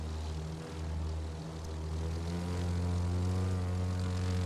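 A steady droning propeller engine in the video game The Crew 2 hums loudly throughout, its pitch dipping briefly and then climbing as the aircraft powers up.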